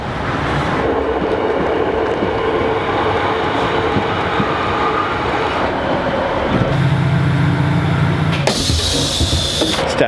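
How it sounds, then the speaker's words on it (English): A Sprinter diesel train rumbles steadily as it approaches, engine note shifting near the end with a brief hiss and a higher whine as it pulls in close. "It's a train coming. It's not a pacer."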